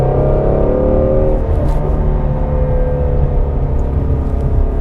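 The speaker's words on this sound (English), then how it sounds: "Downshift and go through the gears and just have fun." A 2016 Ford Mustang Shelby GT350 engine drones loud and close, its harmonic roar climbing early on and then holding a steady, throaty pitch under hard throttle.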